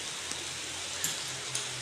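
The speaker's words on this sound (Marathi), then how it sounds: "एवढा पाऊस, मरणाचा पाऊस." Heavy rain falls as a steady, fairly soft hiss, with a few faint drips and taps standing out against the continuous wash.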